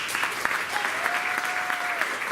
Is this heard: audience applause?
yes